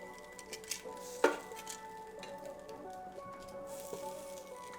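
Chicken pieces set one by one into the bottom of an air fryer basket, giving a few soft clinks and knocks with one sharper clatter near the start over a faint, steady hum.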